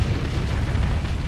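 Rockets fired at an enemy ship during space combat in Starsector give a loud, continuous booming roar of blasts with heavy low rumble throughout.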